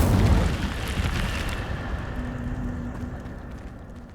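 Incendio fire spell cast in Hogwarts Legacy, a loud whooshing burst of flame that starts at full strength and then rumbles and fades into a low lingering roar.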